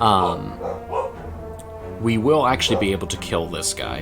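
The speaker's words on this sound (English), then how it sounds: "please pardon my barking dogs" Dogs bark and yip in the background during a Slay the Spire gaming session, short barks breaking in under steady close speech.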